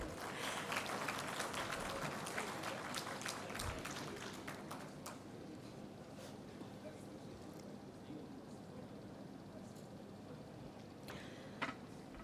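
Audience applauding dignitaries on stage at the India Defence Conclave, a dense wash of clapping that is strongest at first and then thins out, with a voice on the PA over it.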